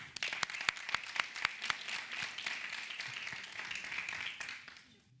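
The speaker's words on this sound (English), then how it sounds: "Another round of applause." After a panel discussion on bullying and migration, an audience gives a modest round of applause; distinct individual claps stand out at first, then settle into a softer, even patter that fades at the end.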